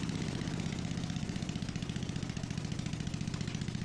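The diesel engine of a farm machine runs steadily just after starting, a loud, close, even chugging idle with a rapid rhythmic clatter throughout.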